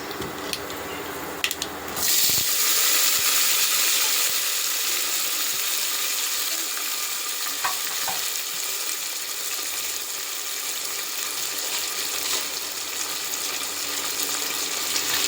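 Shallots, curry leaves and dried red chillies sauté in a pan for a Tamil-style green field bean sambar, giving a steady close hiss of oil that starts with a burst after a short quiet moment and runs on evenly.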